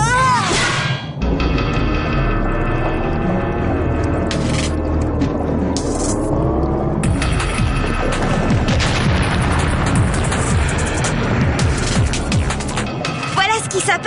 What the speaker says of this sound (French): Attention, elle est prête à exploser.